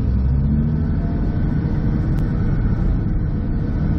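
Steady, heavy engine rumble from a GPS-controlled dozer pushing dirt, a loud continuous low drone held at an even level throughout, close by and with no voices.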